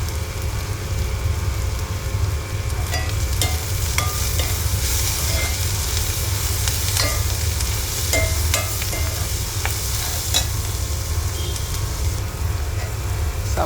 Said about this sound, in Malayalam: സവാള ഉള്ളിയൊക്കെ ചെറുതായിട്ട് വഴണ്ട് വന്നിട്ടുണ്ട്. നന്നായിട്ടൊന്ന് വഴണ്ട് വരട്ടെ.